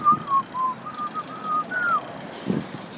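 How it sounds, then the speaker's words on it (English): A person whistles a wavering, breathy tune of several sustained notes that slide up and down, close and clear, with faint background noise. "Kind of hard to whistle because my lips get really dry in this dry weather."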